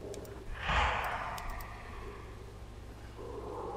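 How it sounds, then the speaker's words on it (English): A monster's low, heavy breath rises from under the bed in the Boogeyman horror game, one drawn exhale swelling near the start and then fading into a faint airy rush that could pass for wind, with no one speaking. "Is that not him breathing under the bed?"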